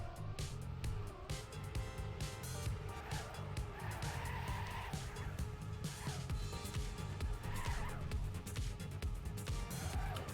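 Race cars in the game TrackMania roaring at full speed, a dense continuous engine drone with tire skids and squeals, loud and unbroken throughout.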